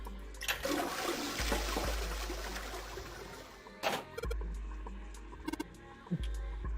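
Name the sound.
toilet flushing again in the video game 999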